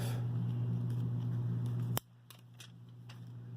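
Protective sticker peeled off a new Nuu Mobile G3+ phone: a steady close rustle, then one sharp snap as the film comes free, followed by a few faint crinkles.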